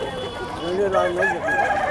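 A red rooster crowing close by at a weekly village chicken market, one drawn-out call over a background of market voices and other fowl.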